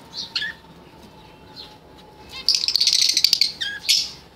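Pet zebra finch chirping and flapping its wings up close: a few scattered high tweets, then a loud burst of rapid wing flutter mixed with calls, followed by more short chirps.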